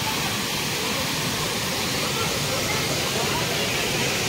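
Pahine Necklace Waterfall near Trimbakeshwar roaring in a dense, unbroken rush of falling water, loud and steady throughout, with no talk heard.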